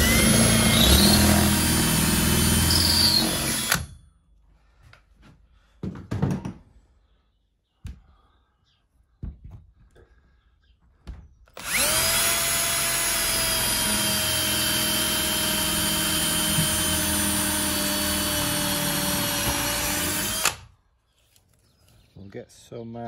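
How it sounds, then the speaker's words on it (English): A power drill bores through a timber shed roof joist in two long, loud whirring bursts separated by quiet pauses with brief knocks and handling noises. "it's just a case of drilling through the timber now to get some threaded bar through"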